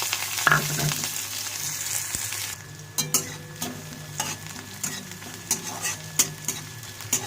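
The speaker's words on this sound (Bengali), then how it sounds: "এবারে কেটে রাখা পেঁয়াজটা দিয়ে দেবো" Chopped onion dropped into hot oil with black cumin seeds in a pan, a sharp sizzle followed by repeated clinks and scrapes of stirring at an uneven rhythm, close and without talk.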